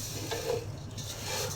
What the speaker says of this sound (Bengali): ঘিয়ের সাথে ভেজে নিচ্ছি সেমাইটা